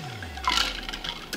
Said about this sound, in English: We're gonna do equal pours.